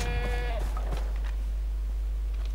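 A goat in Far Cry 3 lets out a single wavering bleat at the start, fairly close, followed by faint rustling and low background hum.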